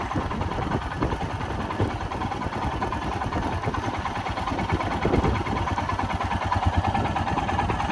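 A Royal Enfield Himalayan motorcycle engine runs steadily and close by, a continuous low, even rumble with no one talking.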